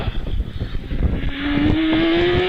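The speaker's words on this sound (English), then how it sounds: "Screams the little engine." A little single-seater OMS 3000 race car at a hillclimb screams past, its engine note rising in pitch as it approaches, loud and close after a rumbling start.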